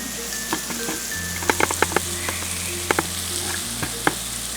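Mushrooms sizzle steadily on a Weber One Touch kettle grill, a close, continuous frying crackle with sharp clicks and taps of tossing scattered through, plus a low steady hum underneath.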